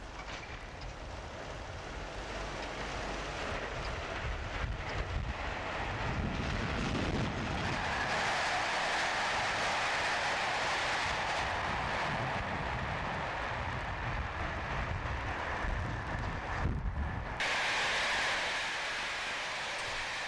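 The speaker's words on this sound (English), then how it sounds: "Intercity expresses pass on the main line as a southbound Euston local departs from North Wembley." Intercity express trains passing on the main line at North Wembley as a southbound Euston local pulls out, a distant rumble that swells into a steady loud roar of passing carriages before easing off.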